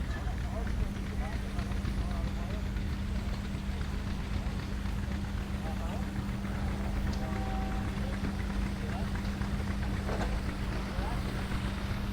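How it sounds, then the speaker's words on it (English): A small steam engine runs at a gas and steam engine show, a steady low mechanical hum persisting throughout under heavy outdoor wind noise. "Oh, they got their little steam engine out today."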